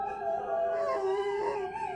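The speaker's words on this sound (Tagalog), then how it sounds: "Mga asong umaalulong." Dogs howl outside at night in long, mournful, overlapping tones that rise and bend in pitch, steady and fairly close, with no voices.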